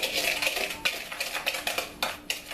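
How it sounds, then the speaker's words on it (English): Dry baking ingredients stirred together in a mixing bowl, with a spoon scraping and clinking against the bowl in a steady, busy rhythm of close, bright strokes. "I take those dry ingredients and I stir them together until they're well mixed in my bowl."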